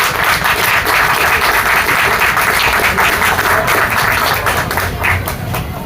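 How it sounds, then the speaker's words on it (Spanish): Audience applause welcoming author José Luis Almeyda Tasayco at a book launch in Chincha: dense, steady clapping from a hall crowd, sustained at full level for about six seconds and easing slightly at the end. "Recibamos con fuertes aplausos a José Luis Almeida Tazaico."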